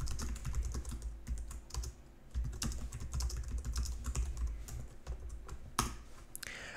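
Fingers tap out a rapid, steady run of clicks on a computer keyboard while writing to a device file for a Linux driver, close and fairly quiet with no talking.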